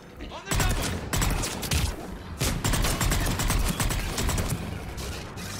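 Rapid bursts of gunfire from a Mass Effect 3 battle, dense and loud throughout with repeated sharp volleys and a heavy boom near the start, with faint voices mixed under the shooting.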